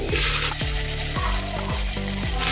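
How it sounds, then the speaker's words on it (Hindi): Finely chopped onion sizzles hard in a hot pan of garlic for pav bhaji, with rhythmic spoon strokes scraping and stirring about twice a second over a loud, steady fry, up close and without speech. "अभी इसमें हम बारीक कटा हुआ प्याज डालेंगे।"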